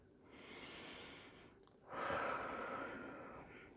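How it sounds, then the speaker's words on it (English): A deep breath drawn in slowly and let out, close and quiet, with a soft airy inhale followed by a stronger, fuller exhale and no talking. "what you do is you just take a deep breath"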